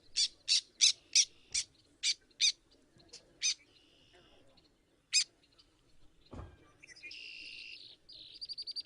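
A black tern calling at its marsh nest as it returns to incubate eggs: a series of sharp, evenly spaced, fairly close call notes, followed by a low thump and a buzzy, grating call near the end.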